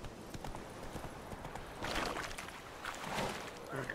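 A horse's hooves clip-clop steadily in The Witcher 3: Wild Hunt, a continuous rhythmic trot heard fairly close and alone, with a louder patch midway.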